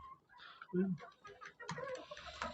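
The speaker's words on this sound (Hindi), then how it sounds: "और ये माशाल्लाह सारी देसी मुर्गियाँ" Desi hens inside a chicken coop cluck and squawk in short, scattered bursts, with one louder nearby call and softer clucks around it, while someone speaks over them.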